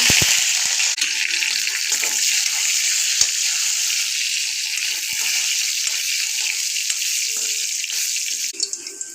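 Hot oil tempering with mustard seeds, cumin, garlic and curry leaves for a Maharashtrian drumstick amti: a steady, bright sizzling hiss runs close and loud throughout, with scattered crackles and pops.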